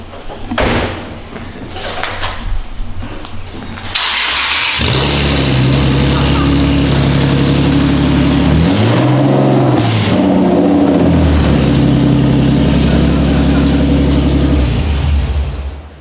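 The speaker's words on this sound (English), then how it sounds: "start my car with open headers, open test pipes, so let's hear it" A Nissan 370Z with open headers and test pipes cranks over after a door thud, then idles loud and raw with a rough, rumbling drone, rising briefly in a rev before settling back; people talk near the car around it.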